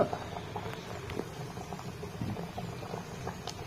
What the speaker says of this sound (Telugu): ఇలా పప్పు మసులుతూ ఉన్నప్పుడు